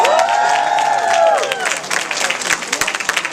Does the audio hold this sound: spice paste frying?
no